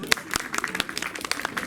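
Brief, sparse clapping from a small audience at a Pokémon convention talk, a scattering of separate claps rather than a full ovation.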